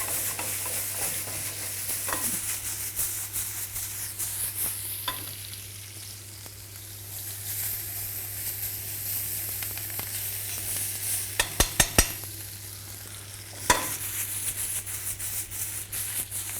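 Food sizzling and frying in a small knob of butter in a pan, a steady hiss with stirring throughout and a few sharp clicks and clatters of utensils against the pan.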